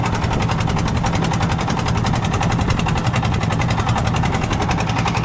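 A passenger boat's engine runs on a calm river on the way to a char, a loud, steady, close mechanical drone with a fast, even rattling pulse and no pauses.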